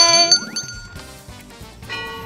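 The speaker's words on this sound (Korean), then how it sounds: "시작부터 골든벨이 울렸습니다" A bright bell ding rings out with a rising shimmer, followed by sparkling chime tones ringing in sequence.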